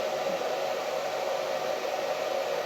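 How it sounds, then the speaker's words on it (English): A blow dryer runs steadily at close range, a continuous even whoosh of rushing air used to dry craft paint during an autumn crafts session, with no talking over it. "give me 1 second to blow dry"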